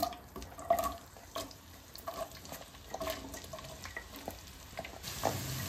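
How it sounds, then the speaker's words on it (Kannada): Chopped onions hit hot ghee and oil, giving a low, steady sizzle with scattered stirring clatter and a few sharper sputters, close and moderately loud, with no talk. "ಈಗ ನಾನು ಇದಕ್ಕೆ ಒಂದು 4 ಈರುಳ್ಳಿನ ಸಣ್ಣದಾಗಿ ಹಚ್ಚಿಟ್ಕೊಂಡಿದ್ದೆ, ಆ ಈರುಳ್ಳಿ ಹಾಕ್ತಾಯಿದ್ದೀನಿ"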